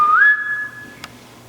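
A single short whistle rising to a sustained clear note, fairly close and alone inside a theater, ending with a faint click.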